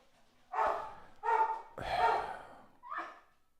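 A dog barks four times in close succession, loud and near, the barks spaced unevenly with brief pauses between, no talking over them.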